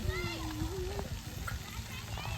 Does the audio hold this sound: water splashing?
yes